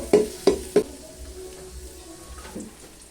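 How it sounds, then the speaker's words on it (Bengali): Chopped onion frying in a pan on a clay stove, three quick utensil knocks followed by a faint, low sizzle close by. "দিয়েছে পেঁয়াজ কুচি পেঁয়াজটা ভালো করে ভেজে নেব"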